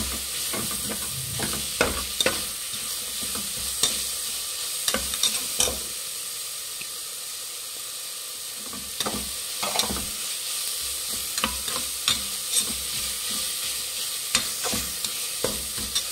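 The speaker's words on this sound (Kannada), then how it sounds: "ಈಗ ಪುದೀನ ಮತ್ತು ಕೊತ್ತಂಬರಿ ಸೊಪ್ಪು ಹಾಕೊಳ್ಳೋಣ. ಇದು ಚೆನ್ನಾಗಿ ಫ್ರೈ ಮಾಡಬೇಕು ಫ್ರೆಂಡ್ಸ್." Mint and coriander leaves frying in a pan for plain kushka, a steady hiss and sizzle broken by repeated stirring scrapes throughout.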